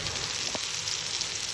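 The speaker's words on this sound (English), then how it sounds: "you can hear it sizzling." Salted masala spices sizzling in a pan while cooking aloo potoler dalna, a steady close hiss of frying throughout with a brief soft clink near the middle.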